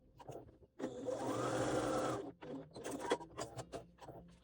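Sewing machine basting fabric along a zipper tape edge: one steady close run of rapid stitching lasting over a second, followed by a few short bursts and clicks as the fabric is adjusted.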